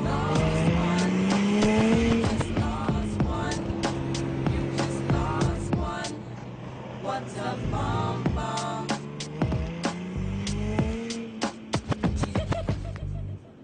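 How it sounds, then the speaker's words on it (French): A sports car engine heard from the seat inside the car while driving, a loud, close growl whose pitch climbs and holds through gear changes, with sharp clicks and rattles scattered over the steady motor drone. "on est vraiment assis comme dans une voiture de sport en effet, avec le bruit qui va avec"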